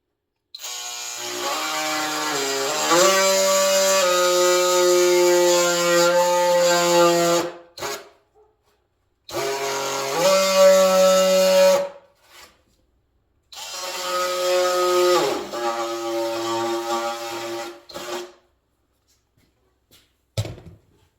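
An oscillating or hand saw cuts down the center of a deer's nose for a septum mount, a loud sustained whining buzz in three long bursts separated by brief pauses.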